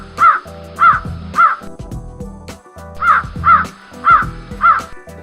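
A crow caws in a series of loud, harsh calls close by, two caws, a pause, then three more and two more in a steady rhythm, with no one talking.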